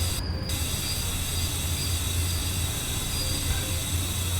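EU07 electric locomotive in the SimRail train simulator rolling to a stop, a steady loud rumble of rail noise and hiss with a low hum, continuous and close throughout.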